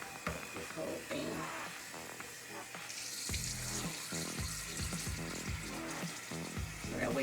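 Tap water pours steadily into a sink, a continuous splashing rush that grows fuller partway through, close by with faint background sounds.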